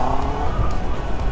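Close and loud, a Honda CB motorcycle engine (CB650R or CB300R) keeps up a brief steady revving drone on a practice ground, with no speech over it.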